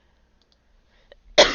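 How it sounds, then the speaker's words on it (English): A single loud cough bursts out close by after near silence, preceded by a faint throat click. "I still have a little bit of a cough here."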